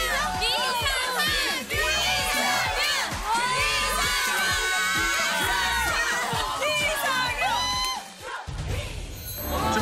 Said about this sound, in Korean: 일단 박수 주세요.